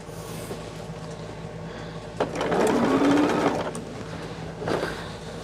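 Sewing machine stitching binding onto a preppy, a steady mechanical whir that rises into a louder sustained run of rapid stitching, then eases, close by with no talk.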